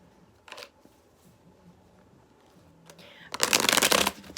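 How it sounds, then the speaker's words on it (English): Tarot cards are shuffled by hand: a short riffle early on, then a louder, longer flurry of shuffling near the end, with quiet room tone between. "I'm going to shuffle one more time"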